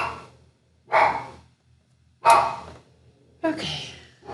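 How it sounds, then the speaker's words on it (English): A dog barks three times indoors, loud and fairly close, with short gaps of quiet between the sharp bursts and no talk over them. "sorry about my dog"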